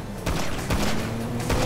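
Gunfire in the video game GTA V, a few sharp bursts of shots spaced apart over a steady rumbling background.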